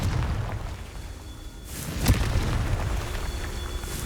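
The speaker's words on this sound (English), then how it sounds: "Confringo. Revelio. Confringo." A Confringo fire spell explodes in the video game Hogwarts Legacy: a sharp boom bursts out midway through a steady rumbling game soundscape, then fades back into the background din.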